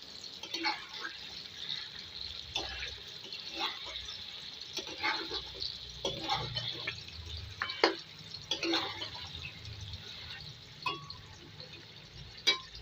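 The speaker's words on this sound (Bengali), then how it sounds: "এই জলটা দিয়ে আমি আবার কষিয়ে নেব" Mutton for a curry being fried and stirred in a pan with added water, a soft steady simmering hiss broken by intermittent scrapes and light knocks of a spatula, moderately quiet and without talk.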